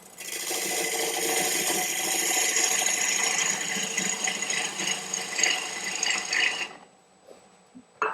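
Mulberry bowl on a wood lathe, ebony-finished, as its face is cleaned up: a steady raspy scraping of tool on spinning wood for about seven seconds, then it cuts off into quiet with a few faint knocks.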